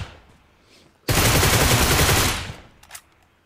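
Loud, dense automatic gunfire in a Free Fire shooting game: a sustained burst of rapid shots lasting about a second and a half, cutting off sharply, with quiet game ambience before and after.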